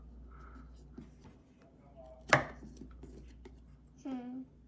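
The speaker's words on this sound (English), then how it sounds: "Stab in the pumpkin." A single sharp stab of a carving knife into a pumpkin cuts through quiet room noise, followed by a short creaking scrape of the blade working through the firm flesh.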